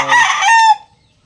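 A young gamefowl stag crows once, loud and close, a single short cock-a-doodle-doo call that cuts off abruptly.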